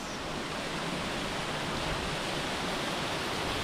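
Steady, loud roar of water pouring from a waterfall in Bicol, a dense unbroken rush close by with no voices over it.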